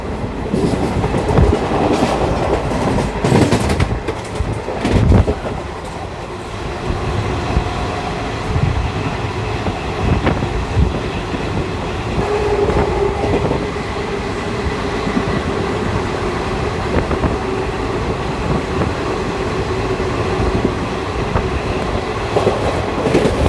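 The 11404 Kolhapur–Nagpur Express rumbles along the rails in India, with steady clickety-clack of wheels, a continuous loud roar and occasional sharp metallic knocks, heard from on board with no talking.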